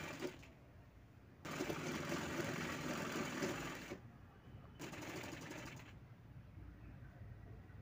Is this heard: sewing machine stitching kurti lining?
yes